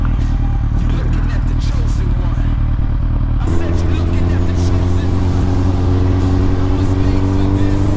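A Suzuki GSX-R1000 sportbike on a test ride drones steadily, then its engine note jumps into a stronger, harmonically rich roar as the throttle opens, loud and close throughout, with a rider's voice now and then over it.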